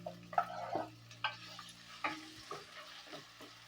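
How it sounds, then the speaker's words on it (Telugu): Onions and tomatoes frying in oil for a village-style mutton curry, stirred in a pot with soft sizzling under intermittent scrapes and clinks of a spoon against the vessel, close and fairly quiet. "ఇలా కలిపేటప్పుడు ఇది బాగా వేగాలి ఆయిల్లోన"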